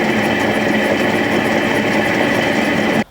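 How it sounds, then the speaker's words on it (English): A spinner machine spins freshly washed sunflower shoots with a loud, steady motor whir and drum rumble. The sound runs unbroken and close, then stops abruptly at the end. "So now I got a bunch of shoots in the spinner, so let's get that guy going."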